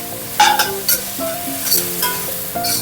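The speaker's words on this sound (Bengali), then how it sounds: "এবার টমেটোটাকে ভেজে নিতে হবে" Tomatoes frying with onion in a pan for egg bhuna dal, a spoon scraping and stirring in bursts over a steady close sizzle, with bits of faint background music.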